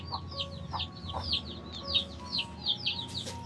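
Chickens cluck and chirp in quick, repeated calls, fairly close, over a low background hum.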